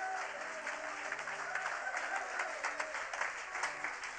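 A church congregation applauding during a worship service, a steady wash of clapping hands that holds evenly at moderate distance for the whole stretch, with faint voices mixed in.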